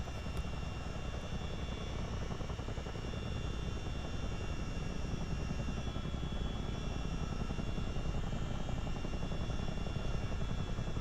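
A Chinook CH-47D helicopter's engines drone steadily and loudly in Microsoft Flight Simulator, a continuous rotor and turbine hum that builds slightly as power increases.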